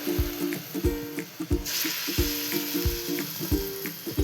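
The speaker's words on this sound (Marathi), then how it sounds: "गॅस लहान करा आणि मीडियम फ्लेमवरच छान तळायचे, म्हणजे छान होतात आपले वडे।" Dahi vada batter balls frying in hot oil on a medium flame, a continuous close bubbling sizzle with rhythmic metallic clinks and taps from a utensil against the pan throughout.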